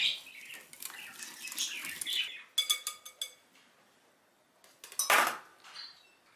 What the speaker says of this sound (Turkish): Öncelikle çırpıcıyla karıştıralım.